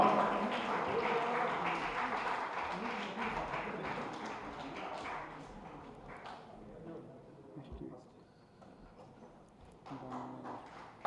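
An audience claps at a humanitarian awards ceremony, a dense patter of applause strongest at first and fading over about eleven seconds, with voices mixed in and a speaker audible near the end.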